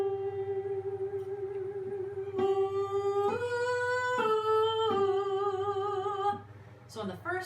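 Sustained vocal oohs in close harmony, held as long stepped chords that shift pitch every second or so, then break off into a brief scrape of movement.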